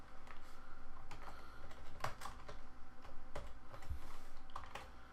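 Typing text on a computer keyboard, a continuous run of close key clicks at an uneven pace with a few louder taps, over a steady background hum.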